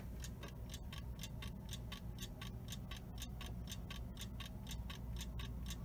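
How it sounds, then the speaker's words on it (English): A thrift-store clock ticking steadily and evenly, a close, quiet, regular tick-tock over a low background hum with no other sounds. "let you listen to the ticking of the clock"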